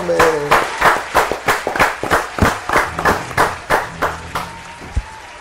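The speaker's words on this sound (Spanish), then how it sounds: "Un aplauso para Jorge" Steady rhythmic hand clapping from a small group, close and fairly loud, holding an even beat throughout.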